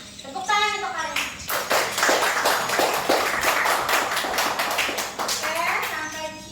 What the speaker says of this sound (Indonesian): Nah, tepuk tangan untuk kalian.